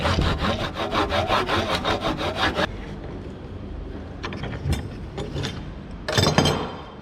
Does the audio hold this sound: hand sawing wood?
yes